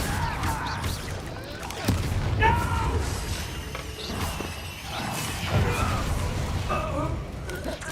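Confringo fire spell blasts in Hogwarts Legacy gameplay: several booming bursts amid clanking mechanical game effects, loud and close over continuous action noise.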